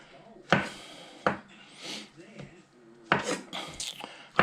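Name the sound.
cutting up food for a breakfast omelet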